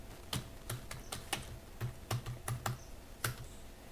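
An email address being typed on a computer keyboard while filling in a WordPress contact form: a steady run of crisp, close key clacks, about a dozen distinct strokes at an uneven pace, with no talking.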